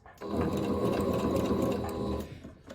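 A sewing machine back stitching to secure a pocket on a shirred waist pant, one continuous whirring run of rapid needle strokes lasting about two seconds, close and clear, then stopping.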